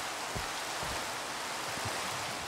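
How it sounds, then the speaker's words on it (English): Steady broadband rain hiss from the SevTech Ages modpack in Minecraft fills the scene, a continuous even wash with a few soft low thumps underneath and no voices. "I can't believe this rain is still going."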